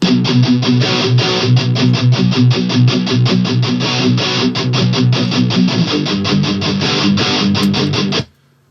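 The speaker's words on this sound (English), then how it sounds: "just a very aggressive rock guitar," Heavily distorted electric guitar chugs out a loud, driving rock riff in fast, steady strokes, then cuts off abruptly near the end.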